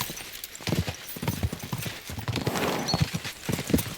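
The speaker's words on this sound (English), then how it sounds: "We should spur the horses on." Horse hooves clip-clop at a gallop in the medieval game Kingdom Come Deliverance II, a steady rhythmic pounding close by, with a horse neighing briefly over the hoofbeats and faint game sounds behind.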